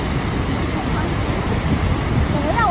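Snoqualmie Falls in Washington, a short but full-flowing waterfall, gives a continuous broad roar and rush heard from a distance, with people talking over it and some wind buffeting the microphone.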